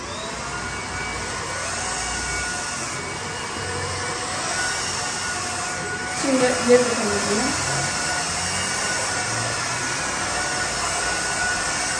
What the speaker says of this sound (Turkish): Başlayalım o zaman bu süpürgeye